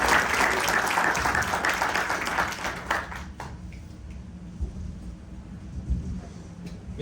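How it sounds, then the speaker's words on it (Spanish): Audience applause at a book presentation, a dense roar of clapping for about three seconds that fades into quieter room noise and a few scattered claps. "Un aplauso."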